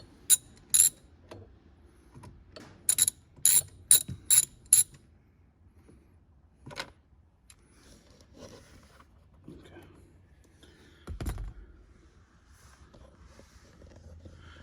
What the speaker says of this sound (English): we're gonna get our Torx bit, put it right in here, loosen both bolts